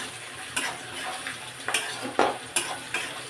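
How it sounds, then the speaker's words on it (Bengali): Onions fry in a pan with a steady sizzle, punctuated by regular scraping stirs every half second or so, close up with no voices. "পেঁয়াজ ভাজছি।"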